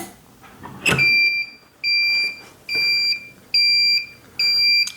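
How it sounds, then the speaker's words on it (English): A timer goes off after a button press with a click, then sounds a series of loud, sharp electronic beeps in regular bursts, five evenly spaced pulses close to the microphone. "Push the button so that the timer goes off."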